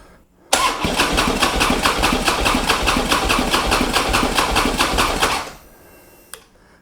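A Harley-Davidson Road King motorcycle that sat for four years, tried with the gas cap off, cranks over with a loud, rapid rhythmic starter chug lasting about five seconds, then cuts off without catching.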